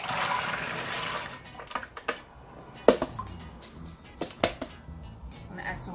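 Soaked red peas, garlic cloves and their soaking water poured into a pot, a steady close splashing pour at first, then scattered plops and knocks as it settles, with a voice talking.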